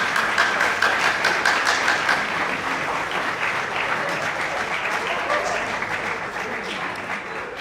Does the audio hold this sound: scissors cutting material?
no